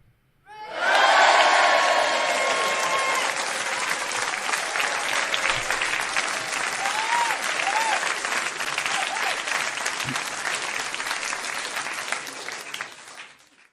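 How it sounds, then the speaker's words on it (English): Audience applause swells quickly into loud, sustained clapping with some cheering, holding steady for over ten seconds before cutting off. "this one does actually deserve an applause"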